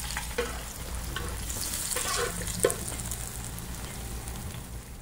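Tomato and crushed garlic fry in a pan for a traditional curry, giving a steady close sizzle with scraping stir sounds and a few sharper spits and clinks.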